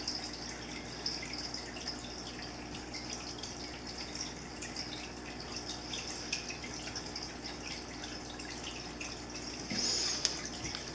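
Paint remover pours onto a Cold Steel war hammer in a steady, faint trickle with occasional drips, and no one speaks.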